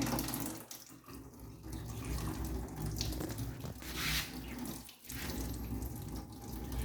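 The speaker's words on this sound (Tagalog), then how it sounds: "I'm going to rinse my hands under the running water" Hands are rinsed under a running tap, a steady hiss of flowing water with shifting splashes and brief dips as the hands move through the stream, no talking.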